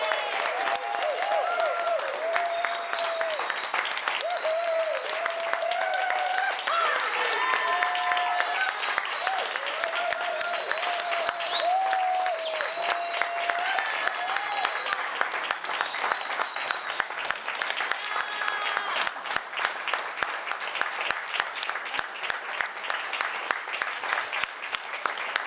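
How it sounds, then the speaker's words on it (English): Audience applause fills the room, steady and dense, as many hands clap together without a break. A few faint voices and cheers rise over the clapping now and then. "Now you can give them the applause they deserve."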